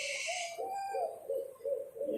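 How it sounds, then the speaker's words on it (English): An owl hoots at an outdoor bird-of-prey show in a park arena, a series of soft, low repeated calls with a brief brighter background sound at the start. "Yes, it's an owl."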